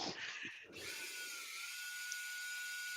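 A high-pitched rotary tool with a flat sanding wheel whines steadily after a brief clatter at the start, running alone at a constant speed.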